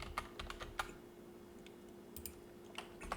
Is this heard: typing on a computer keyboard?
yes